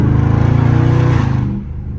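A Dodge Scat Pack in track mode roars loudly up close with a throbbing, pulsing engine note during a downshift. The sound then drops sharply in pitch and volume into a quieter, lower rumble.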